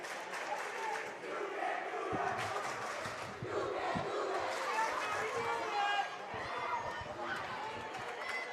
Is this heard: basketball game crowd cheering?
yes